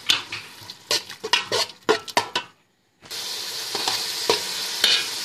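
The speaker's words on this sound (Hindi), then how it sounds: "अब इसमें अदरक और लहसुन का पेस्ट डाल देंगे और इसको मज़ीद 2 मिनट फ्राई करेंगे।" Chicken pieces fry with ginger garlic paste in a pan, a spoon scraping and clacking in bursts over soft sizzling, then a brief silence before louder steady sizzling resumes with occasional stirring knocks.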